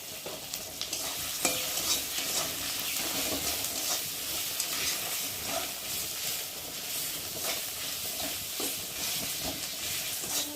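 Spice paste with turmeric and tomato being stirred and fried in a pan for a taro curry, with steady sizzling and frequent scraping spatula strokes, close and moderately quiet.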